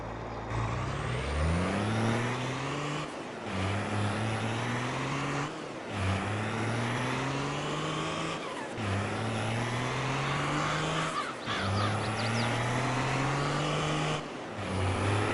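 Truck engine in the video game Farming Simulator 22, a loud continuous drone that repeatedly revs up through the gears, each climb broken by a short dip as it shifts.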